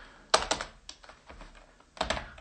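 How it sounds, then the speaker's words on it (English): Bursts of computer keyboard typing, quick clusters of close, crisp key clicks separated by short pauses, with no voices. "let's go ahead and start typing"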